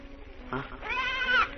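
A goat bleats a couple of times nearby, a short call followed by a longer wavering bleat, against quiet outdoor background.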